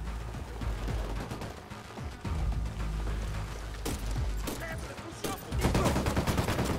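Gunfire in the video game Ghost Recon Wildlands: loud bursts of rapid shots and sharp cracks in close succession, overlapping with game sounds and a louder cluster of blasts near the end.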